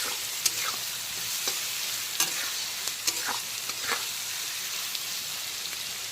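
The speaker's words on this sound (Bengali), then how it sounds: "এখন বেশ কিছুক্ষণ সময় নিয়ে পেঁয়াজ কুচিটাকে হালকা বাদামি কালার করে ভেজে নেব" Chopped onion stirred and fried in a pan until light brown for mochar ghonto, a steady close sizzle with scattered scrapes of a spoon against the pan.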